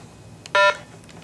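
A single keypad beep as the 1 key is pressed on a RATH Smartphone 5 emergency phone, a short, loud electronic dual tone standing alone against quiet background hiss.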